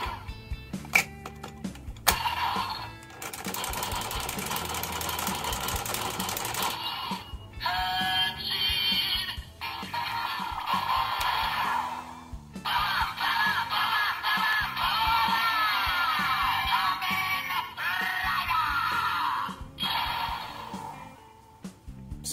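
A Zenkaiger Geartlinger toy fitted with the Kamen Rider Zero-One Sentai Gear plays a loud, busy electronic announcement: synthesized music, shouts and effects, with short pauses breaking up the sound.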